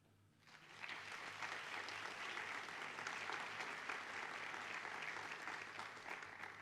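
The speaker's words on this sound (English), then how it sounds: "I want to give a round of applause to all of the kids that are here this evening" Sustained applause from an audience of parents at a middle school awards night, honoring the kids present; steady clapping rises quickly after a brief quiet start and holds loud and dense throughout.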